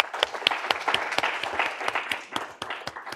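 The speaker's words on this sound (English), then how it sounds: "Join me in giving them a round of applause." Applause from the audience at an academic careers-in-economics event, a modest group clapping with distinct individual claps audible in a fairly quiet, close room.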